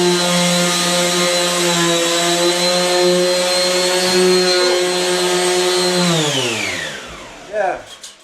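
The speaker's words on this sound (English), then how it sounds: "He's sanding the loft." A power sander whines steadily and loudly nearby as a loft ceiling is sanded, then winds down as it's switched off, followed by a couple of soft knocks.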